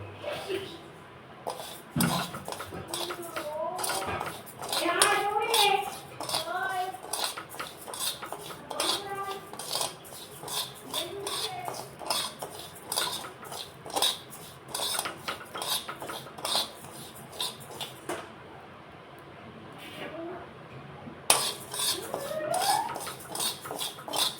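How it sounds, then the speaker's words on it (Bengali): Gobindobhog rice dry-frying in a pan, stirred with a metal utensil that gives repeated close scraping and clinking against the pan in an irregular rhythm, with brief pauses and a voice talking at times. "আমার গোবিন্দভোগ চালটাও মোটামুটি ভাজা হয়ে গেছে এবার নামিয়ে ফেলবো"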